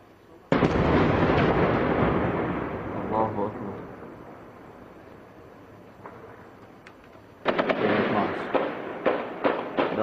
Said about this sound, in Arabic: وسط اطلاق نار كثيف من كل المداخل وقصف عنيف